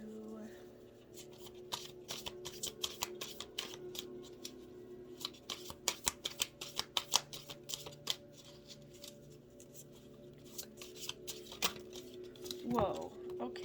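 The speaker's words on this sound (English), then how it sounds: "let's give it a quick shuffle" Playing cards are shuffled in several quick riffling bursts, crisp and close, with a soft hum of room noise between them.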